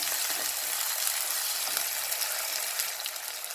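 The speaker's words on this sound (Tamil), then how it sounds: "சின்ன வெங்காயத்தை சேர்த்து இப்போ கிளறி விட்டுடுறேன்" Halved shallots fry in hot oil in a pan for a sardine curry and are stirred, making a steady, close, bright sizzle with faint crackles and soft scraping throughout.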